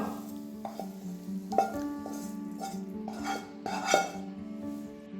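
Banana mixture scraped from a vessel onto a plate, with repeated metal clinks and scrapes of a spoon against dishware, quiet and close.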